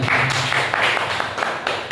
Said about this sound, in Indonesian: ada tepuk tangan buat kita semuanya.